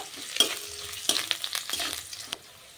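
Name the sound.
frying crushed ginger with onions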